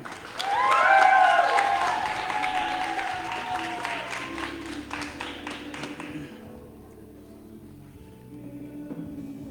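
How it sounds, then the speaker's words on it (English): A crowd at a Peace Corps swearing-in ceremony in Samoa claps over someone speaking in the foreground, and the applause fades to quieter scattered claps by the end. "another round of applause for Mumuli"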